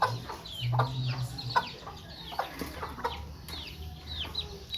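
Several chickens fighting over food cluck and squawk in quick, agitated bursts, close by, with scuffling and a steady low hum in the background.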